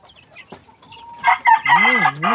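Chickens cluck nearby, then a rooster crows loudly and close, its wavering call filling the end.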